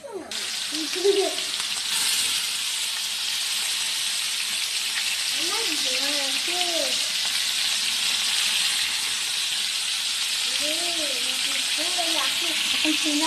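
Chicken pieces frying in a pan for a Bengali-style chicken roast, giving a steady, close sizzling hiss throughout, with soft overlapping voices and occasional clatter in the background.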